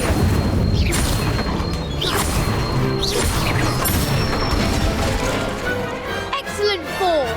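The Incendio fire spell is cast repeatedly in the video game Hogwarts Legacy, producing loud booming bursts and crashes in quick succession, with voices mixed in.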